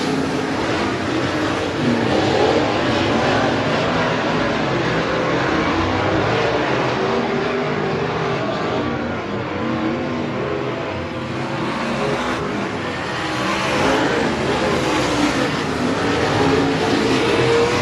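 Modified race cars roaring around the oval at Heart O' Texas Speedway, a steady loud wall of engine noise with swelling and fading revs as cars pass, continuous throughout.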